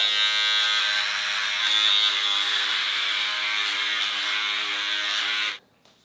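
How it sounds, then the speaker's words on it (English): A Woner electric hair clipper trims a neckline with a steady, close, loud buzzing hum, then cuts off abruptly near the end. "Gonna take my handy dandy trimmer and get even closer."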